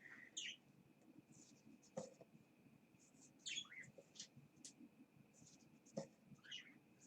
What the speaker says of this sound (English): What's up, birds?